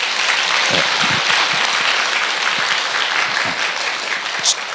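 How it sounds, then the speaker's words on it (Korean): A church congregation at a Sunday worship service applauds in welcome, a steady, full wash of clapping from many hands throughout the room. "한번 박수로 환영하십시다"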